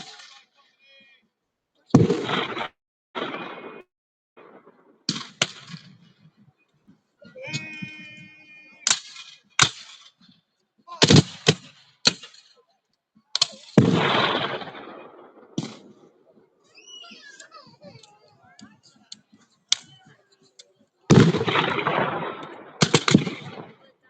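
Gunfire from a Civil War reenactment battle, sharp musket volleys and scattered shots cracking out at intervals with echoing tails, interleaved with quieter stretches and distant voices.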